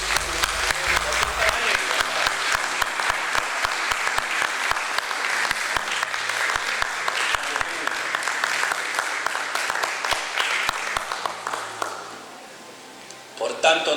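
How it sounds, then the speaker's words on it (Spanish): Congregation in a church bursts into sustained applause for the Lord, dense clapping with a music bed underneath, holding steady for about twelve seconds before fading out. "Y si quiere darle un aplauso al Señor, déselo."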